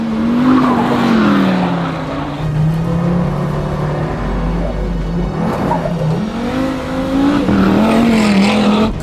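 A KTM X-Bow GT XR race car at speed on a circuit, its engine loud and close with a steady high drone that dips and rises through corners and gear changes, with a brief low rumble in the middle.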